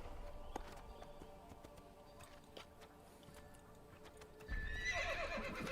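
Horse hooves clip-clopping in the Assassin's Creed video game, a steady faint gallop under quiet ambience that swells near the end with a loud whinny and louder hoofbeats.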